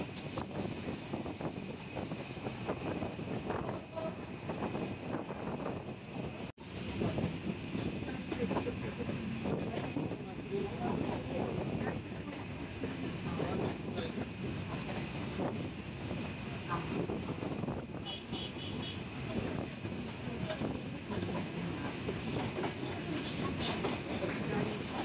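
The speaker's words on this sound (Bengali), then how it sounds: "আমাদের চিত্রা এক্সপ্রেস ট্রেন থ্রোপাথ যাচ্ছে টঙ্গী জংশন রেল স্টেশন।" Chitra Express passenger train running at night between Dhaka and Sirajganj, recorded on board: a loud, steady rumble with rhythmic clickety-clack of wheels on rail joints and wind noise throughout.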